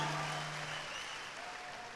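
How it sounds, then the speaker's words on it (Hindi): Audience applause at a fourth anniversary event, a steady wash of many hands clapping throughout the short stretch, fairly even and moderately loud with a faint low hum early on. "एक बार जोरदार तालियां उन सारे डेडिकेटेड पीपल के लिए।"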